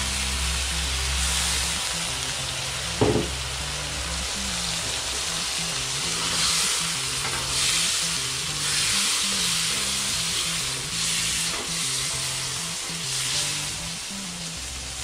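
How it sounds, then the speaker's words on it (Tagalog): Soy sauce is poured into a pan of pork ribs. A continuous sizzle and hiss of frying carries on steadily, with a brief clatter near the start. "Ilalagay na natin yung ating toyo,"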